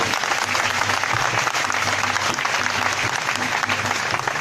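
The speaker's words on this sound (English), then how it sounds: "Please, a round of applause for these children once again." A crowd applauds children after their rendition of the national anthem at an outdoor gathering in Aba, steady full clapping that holds loud and unbroken throughout, with a low hum underneath.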